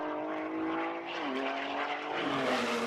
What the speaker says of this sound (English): Ford has certainly made this engine sound as good as any V8.